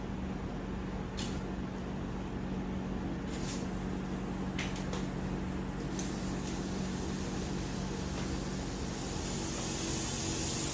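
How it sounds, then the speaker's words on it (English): A continuous loud hiss of steam from a boiling steam unit used in pipe patch repair runs throughout, broad and even, with a few sharp clicks and knocks early on, growing slightly louder at the end. "Taking it off the steam unit. And the steam unit is still, it's still boiling."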